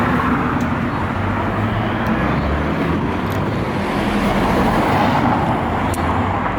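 Steady road noise from a car on the move, a dense continuous rumble and hiss that stays even and fairly loud throughout, with no voices.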